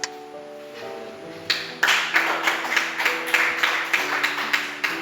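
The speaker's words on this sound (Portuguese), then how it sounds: "Senta e glorifica Jesus Cristo com as palmas." Church congregation clapping during a service, starting after a sustained musical tone and settling into a steady rhythmic beat of regular claps, loud and close alongside the lingering music.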